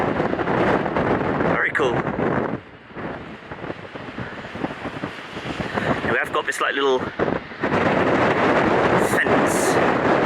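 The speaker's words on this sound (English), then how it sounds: "it is extremely windy. I am cupping my hand over the microphone a bit just to help out the audio" Strong coastal wind buffets the microphone on a cliff path between Land's End and Sennen Cove in Cornwall, a loud continuous roar that drops briefly in the middle, while someone talks over it throughout.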